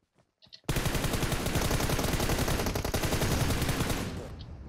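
Sustained automatic gunfire in PUBG Mobile, a dense loud burst of rapid shots running for several seconds before tapering off, with a few faint sounds just before it starts.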